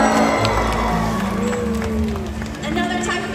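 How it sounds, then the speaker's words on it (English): An audience at a killer whale show in a marine park arena cheers and whoops, a busy crowd roar with an announcer's amplified voice running over it. "Let's give Drew a cheer."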